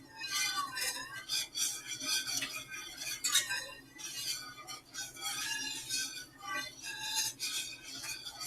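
A whisk stirring macaroni and cheese sauce in a pot, scraping and squeaking in repeated rhythmic strokes, with faint clinks of metal, close and fairly quiet.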